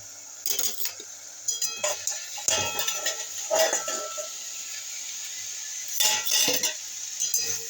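Pumpkin, bottle gourd and potato peels frying in a pan, with a soft steady sizzle under repeated metallic clinks and scrapes of a utensil stirring against the pan, coming in irregular bursts.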